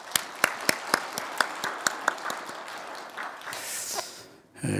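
Congregation applauding the choir's hymn during a Sunday church service, starting with a few distinct loud claps that blur into a steady ripple of clapping before fading, with a voice returning at the very end.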